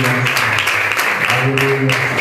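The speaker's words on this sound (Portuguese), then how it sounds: "Aplausos, Senhor." Applause from a church congregation during an evangelistic service, broadband clapping that runs under a sustained singing or speaking voice holding low tones throughout.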